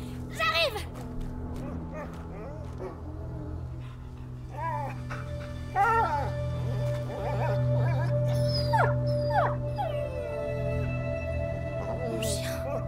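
In the video game A Plague Tale: Innocence, a dog whines and whimpers in rising, wavering cries under a continuous low drone of game ambience, while French-speaking characters and a Polish commentator talk over it.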